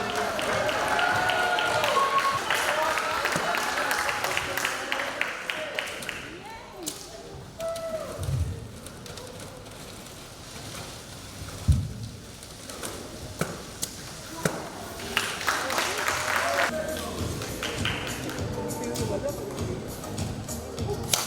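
Crowd at a 2019 Robocon domestic robot competition in Fiji cheering and clapping for school teams, a dense roar with scattered thuds and shouts, swelling and fading, with an announcer's voice over it.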